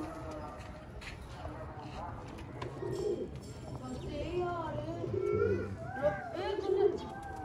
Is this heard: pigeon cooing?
yes